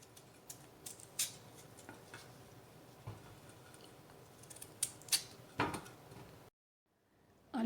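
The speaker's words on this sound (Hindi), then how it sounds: "अब हम के निस्बतन बड़े टुकड़े काट लेंगे।" Potatoes cut into large pieces with a knife on a cutting board, a series of sharp, uneven chops and taps at close range, then a short silence and a final knock.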